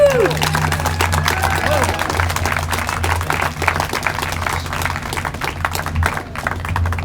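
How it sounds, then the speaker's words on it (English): A rally crowd at the state capitol applauds Kristen Iverson at a Keep Rocky Flats Closed event, with loud, dense clapping that stays steady and then tapers slightly toward the end. "we need a bigger round of applause than that for Kristen Iverson"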